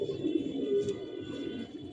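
Racing pigeons back from the final of a 35 km race coo softly and close by, a low, repeated throaty murmur over a brief, steady stretch.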